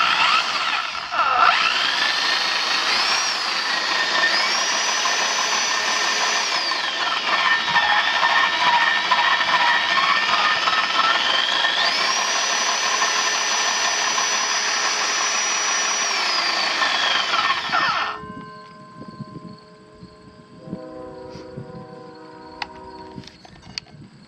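A Super Vee power drain cleaner motor whirs loudly and steadily, its pitch rising and falling as the variable speed trigger changes speed, then it cuts off, leaving quieter clicks and a faint hum.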